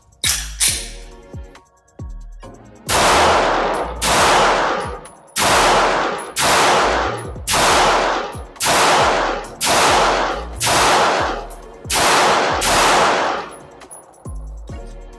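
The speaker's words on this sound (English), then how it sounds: "let's put some couple shots down range and see how she shoots" Ten or so Glock 48 pistol shots fired at an outdoor shooting range, loud sharp cracks in a steady rhythm, each with a ringing decay, following a few handling clicks and one early shot.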